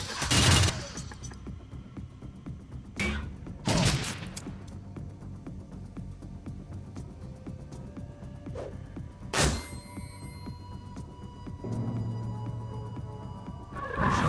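Video game gunfire in Shadowrun: Dragonfall, several loud separate bursts spaced seconds apart, with quieter game ambience and small effects between them and no talking.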